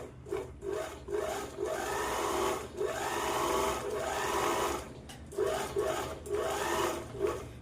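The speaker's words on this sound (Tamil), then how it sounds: "இப்போது நான் நல்ல பகுதியில் இப்போ தைச்சிருக்கேன் ஓவர்லாக்" An overlock sewing machine stitches and trims a blouse piece in steady whirring bursts, pausing briefly between runs, close and fairly loud with no talking.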